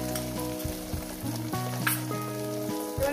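An egg frying in hot oil with vegetables makes a steady close sizzle and crackle under melodic background music, with no one speaking.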